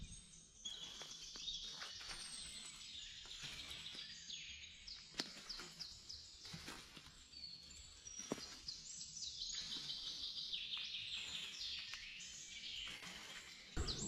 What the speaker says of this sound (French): petit réveil avec le chant des oiseaux